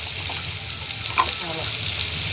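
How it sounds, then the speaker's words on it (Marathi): Chillies and onion frying in a pan, a close, steady crackling sizzle with a brief clink partway through. "आपली मिरची बघा एवढी अशी फ्राय करून घ्यायची आहे"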